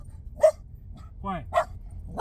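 A dog barks in short sharp yips, three or four barks spaced about a second apart, fairly close and alone over a low background rumble, as if from inside a car in a parking lot.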